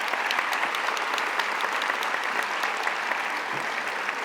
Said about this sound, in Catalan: Us demanaria un fort aplaudiment